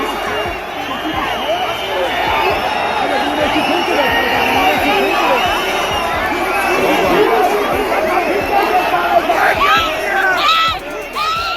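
Football stadium crowd going wild after a goal, a dense roar of cheering, chanting and shouting that stays loud throughout, with a commentator's voice over the top.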